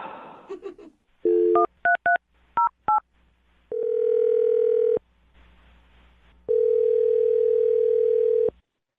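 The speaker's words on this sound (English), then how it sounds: "I'm going to dial her phone number and see if we can get her on the phone" A phone number being dialed for a radio show call, with a quick run of close, clear keypad tones followed by two longer steady ringback-style tones separated by a pause, with no talk.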